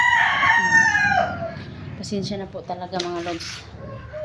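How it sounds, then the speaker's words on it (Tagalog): Roosters belonging to a neighbor crow loudly and repeatedly in a harmonic, drawn-out call, with hens clucking nearby, while someone speaks over the birds throughout. "pasensya na po sa ingay ng mga manok"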